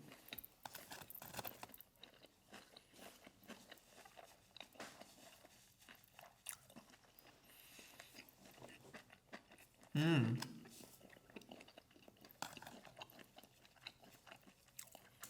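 Up-close, quiet bites and chewing of soy sauce pork belly topped with wasabi and mushroom. Soft irregular crunches and mouth sounds run through, with a brief louder vocal sound partway in.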